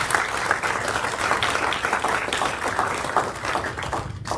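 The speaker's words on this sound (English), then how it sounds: "Give her a round of applause" A roomful of guests at a leadership luncheon applauds Alicia, dense and sustained clapping with scattered individual claps that stays even for several seconds and then drops off abruptly at the end.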